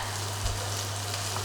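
Chili and garlic stir-frying for Thai basil chicken, a steady close hiss and crackle of oil held at an even level with no talk.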